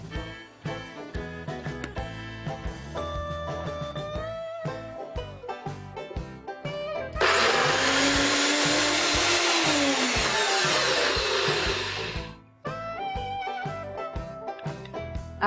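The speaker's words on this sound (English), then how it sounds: "So I'm going to put this in the blender." A blender grinds soaked cashews with a little water into a smooth paste, a loud dense whir running for several seconds alone, preceded and followed by soft background music.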